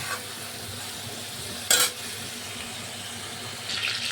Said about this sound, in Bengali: এখানে আমরা চিংড়ি মাছগুলো ঠিক হালকা করে ভেজে আমরা একটা পাত্রের মধ্যে আমরা তুলে দেবো